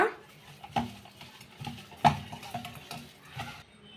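Aloo popcorn mixture with fresh coriander leaves stirred by hand in a bowl, irregular scraping strokes and a few sharp utensil knocks against the dish, close and fairly quiet.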